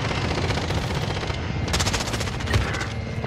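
Gunfire during a hunt, with dense rapid bursts of shots filling the scene, one sharper, louder report standing out near the end, all heard at close range with no talking.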